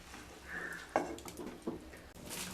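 Egg fried rice being stirred with sauces and green chillies in a pan: soft scraping and rustling with a few sharp utensil knocks against the pan, quiet and close.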